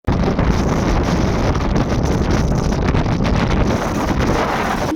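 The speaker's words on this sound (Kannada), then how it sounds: "ಮಾತಾಡೋಕ್ಕೂ ಕೂಡ ಕಷ್ಟ ಆಗ್ತಾ ಇದೆ, ಅಷ್ಟು ಗಾಳಿ ಬರ್ತಾ ಇದೆ" Strong, steady wind buffets the microphone at the Z Point hilltop viewpoint in Baba Budangiri, Chikkamagaluru, a loud continuous roar with no speech throughout.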